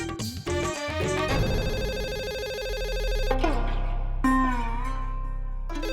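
An electronic phone ringtone plays in a repeating melodic pattern, fairly loud and close, over a low background hum.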